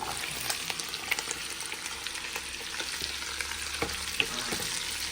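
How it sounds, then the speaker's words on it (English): Onions go into a pan of sausage frying over the heat, a steady close sizzle running throughout with light scraping and stirring clicks scattered across it. "So we're going to add the onions we chopped up."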